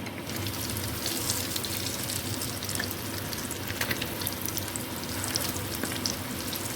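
Egg-dipped potato cutlets fry in a pan over a low-to-medium flame, giving a steady, dense, close sizzle with small crackling pops throughout and no talking.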